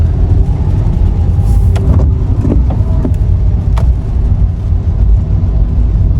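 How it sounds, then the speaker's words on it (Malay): Steady road traffic in a Malaysian jam, a dense continuous rumble of car and bus engines nearby with scattered brief horn-like and mechanical accents, no talk. "Dia menyebabkan kesesakan trafik, nampak?"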